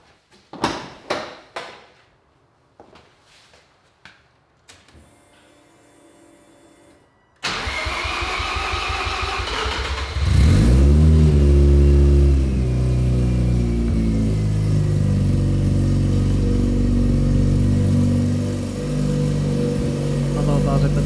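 A car fitted with a MaxxECU unit is started: clicks and a short cranking burst, then the engine catches, idles, and revs loudly with a deep, steady rumble that dips briefly before settling.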